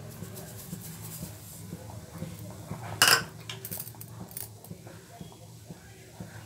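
Metal utensils clink against a pot as a cup of sugar is added for homemade mango juice, faint scattered taps with one brighter metallic clink in the middle.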